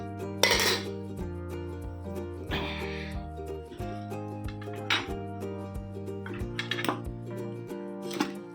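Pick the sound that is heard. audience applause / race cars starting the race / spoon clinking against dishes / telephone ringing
spoon clinking against dishes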